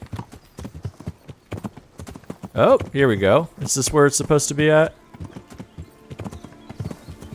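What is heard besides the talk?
horse hooves clip-clopping, from a video game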